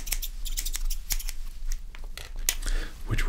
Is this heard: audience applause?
no